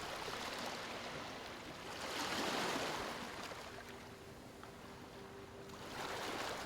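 Sea waves wash in and recede as a broad, continuous hiss with two gentle swells in loudness, soft and steady throughout, with no voices.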